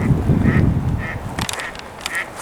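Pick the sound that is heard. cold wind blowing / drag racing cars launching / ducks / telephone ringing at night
ducks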